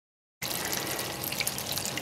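Water gushes out of a travel trailer's black water tank as it is flushed, starting abruptly after a moment of silence and then running in a steady, splashing, dripping stream close by.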